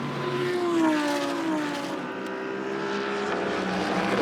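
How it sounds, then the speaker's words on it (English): A Corvette C7 GT3 race car thunders downhill at the Sachsenring during an ADAC GT Masters race, its loud engine note sliding lower as it passes, sustained over a wide roaring wash. "the Corvette thunders downhill right onto the back now of the Mercedes"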